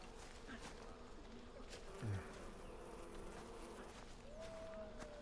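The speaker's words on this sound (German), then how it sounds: "Bienen erschlagen." Bees buzz in the video game Far Cry Primal, a steady dense insect drone that runs throughout. A brief low thump sits near the middle, amid faint game ambience.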